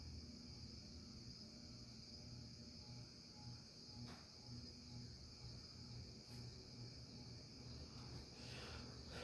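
Crickets chirp in a steady, continuous chorus at low volume, with a faint constant hum beneath them and no other sounds standing out.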